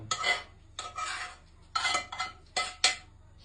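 A spoon scrapes and clinks around a metal pot of cheese dumpling soup in several short bursts of stirring, close by, with brief pauses between strokes.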